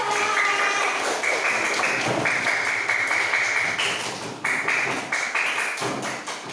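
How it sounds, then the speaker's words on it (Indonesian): Hands clap together in a classroom or lesson setting, a steady run of dense, sharp claps lasting several seconds at close range. "oke, tepuk tangan."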